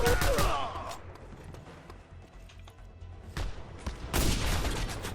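In the video game Just Cause 2, enemy gunfire aimed at the player comes as bursts of rapid shots with loud blasts near the start and end and quieter scattered fire in between.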